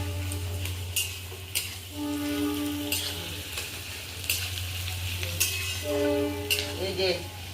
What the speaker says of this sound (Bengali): এই যে পেঁয়াজটা ভাজছি।